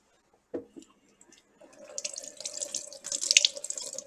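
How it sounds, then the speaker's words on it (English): Tap water running into a kitchen sink while a piece of aged beef is rinsed for a Mongolian beef stir fry; a couple of knocks, then a steady close stream that grows louder and splashier. "I'm going over here to the sink, and I'm going to wash it off."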